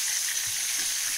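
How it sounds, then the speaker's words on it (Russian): Steady, bright sizzling of meat cutlets frying in a hot pan, close up and continuous, with faint low bubbling underneath. "Вот так наши котлеты пекутся или жарятся."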